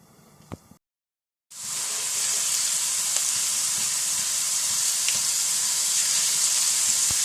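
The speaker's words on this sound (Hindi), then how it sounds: "पकाएंगे लाइट ब्राउन होने तक।" A teaspoon of garlic sizzling in hot oil in a pan while browning for a chicken masala fry. After a brief silence, a loud, steady, hissing sizzle sets in and continues, with a couple of faint clicks.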